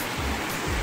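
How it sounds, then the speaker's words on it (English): A rain-swollen creek rages at the confluence of its two branches, giving a dense, steady roar of rushing water close by with no other sounds. "the creek is raging today."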